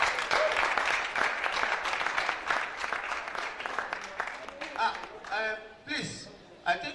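Audience clapping at an art exhibition round table at OAU, a dense burst of applause that thins into scattered claps while voices speak over it.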